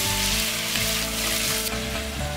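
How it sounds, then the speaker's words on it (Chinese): Pork belly stir-fried in caramelised rock sugar in a wok, giving a steady, close, continuous sizzle and frying crackle with no voices. "炒出糖色后倒入五花肉， 翻炒均匀上色"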